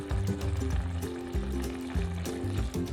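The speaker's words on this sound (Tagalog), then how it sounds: "So that's 2 tablespoons of soy sauce." Soy sauce glugs into a sweet and spicy black pepper crab sauce in a pan, with a steady liquid pour and soft sizzling bubbling beneath, no talking.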